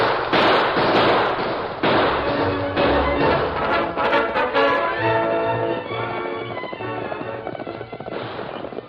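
Sharp gunshot cracks from a western radio drama chase, a loud run of bangs in the first seconds followed by galloping hoofbeats and further shots, with no voices.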